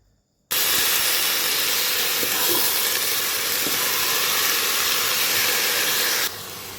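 Vegetables and dried chilies hit a hot pan and break into a loud, steady sizzle that runs for several seconds before easing slightly at the end.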